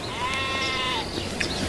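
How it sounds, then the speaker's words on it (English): Sheep bleating on a farm, a single drawn-out wavering call that holds steady for about a second, fairly close and clear over faint background noise with no talk. "Y'all ever slaughter those sheep?"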